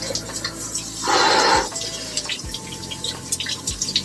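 Cold shower water runs in a house in a brief steady rush of spray lasting about half a second, followed by scattered drips and small splashes nearby.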